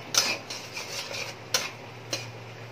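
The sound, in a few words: stirring and frying the spice paste in a pan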